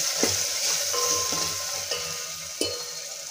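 Red chilli powder and salt being stirred into hot oil for spicy misal, with a soft continuous sizzle and a few light scrapes and taps of a spoon against the pan, close and steady, no voices.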